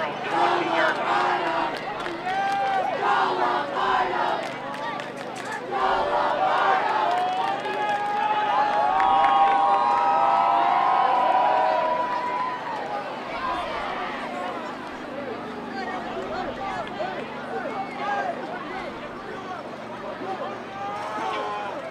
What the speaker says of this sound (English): Good crowd on both sides standing along the fence.